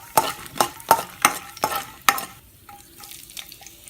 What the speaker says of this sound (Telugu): ఎండుమిరపకాయలు వేసి వేయించండి.